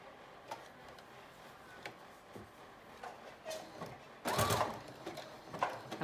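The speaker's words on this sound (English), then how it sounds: "And we're just doing the zigzag stitch again." A home sewing machine running a zigzag stitch over 1/4 inch elastic on a mermaid prom dress, heard as soft ticking mechanical runs that swell into a louder, steady whirring burst near the end.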